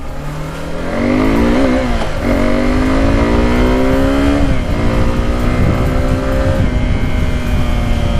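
A 2019 Suzuki Gixxer 250 motorcycle engine revs up loudly and steadily, its rising harmonic whine climbing in pitch across several accelerations through the gears, with continuous close engine roar throughout and no talking.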